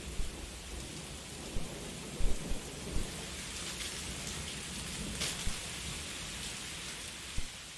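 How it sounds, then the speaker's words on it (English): Lightning strike from the video game AI: The Somnium Files, a steady wash of rain and rumbling thunder with several sharp cracks and booms standing out, no voices. "electrocute them with the lightning"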